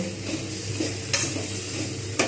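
Spinach ghonto with coriander and cumin powder fries in a pan with a steady close sizzle, as a spoon stirs through it and gives two brief, brighter scraping strokes; no voices.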